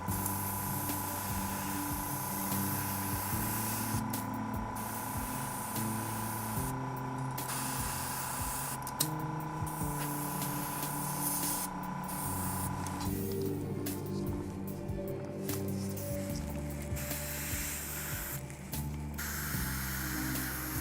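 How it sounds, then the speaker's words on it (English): An airbrush sprays paint onto an Idoneth Deepkin Leviadon miniature for Age of Sigmar, a steady close hiss running continuously under a low electrical hum, with small shifts in tone as the spray is worked. "Really a great airbrush. Keep it clean, and it does pretty awesome things for you."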